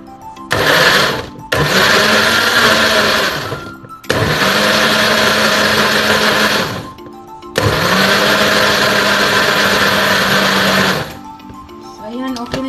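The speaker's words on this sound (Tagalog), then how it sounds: "Tapos, lagay natin siya sa ating blender." An electric blender purées aloe vera for homemade soap in three loud, sustained whirring runs separated by short pauses, with a faint tail at the end.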